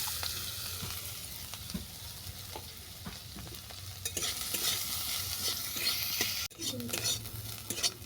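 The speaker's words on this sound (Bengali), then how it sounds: "এই তেলে আমি ফুলকপির ডাঁটাটাকে ভেজে নেব" Cauliflower stalks fry in hot oil with browned chopped garlic, giving a steady close sizzle with scattered stirring scrapes and clinks. The sizzle rises louder in the middle, and a brief dropout comes near the end.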